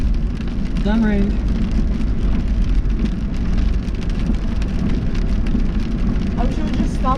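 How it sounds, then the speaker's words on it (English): Steady rain drums on a car driving along a wet road on a rainy day, a loud continuous hiss and patter filling the cabin, with brief voices now and then. "I wish it would just stop raining already."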